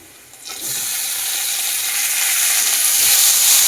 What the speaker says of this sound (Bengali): এবার এতে দিয়ে দেবো টমেটো কুচি